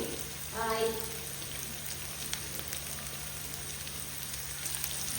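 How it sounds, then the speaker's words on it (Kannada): A large onion fries with a little salt in about four spoons of oil, producing a soft, even crackling sizzle that runs steadily throughout, with a brief voice-like murmur near the start. "ಈರುಳ್ಳಿಯನ್ನು ಚೆನ್ನಾಗಿ ಫ್ರೈ ಮಾಡಿ"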